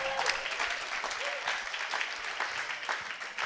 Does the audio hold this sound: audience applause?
yes